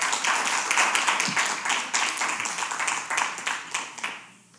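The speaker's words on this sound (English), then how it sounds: "Please give them a round of applause" Audience members at a voting-rights panel discussion applaud the guests with brisk, continuous clapping that holds steady, then thins out and fades in the final second.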